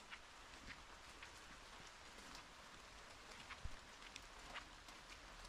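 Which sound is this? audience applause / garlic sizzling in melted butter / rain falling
rain falling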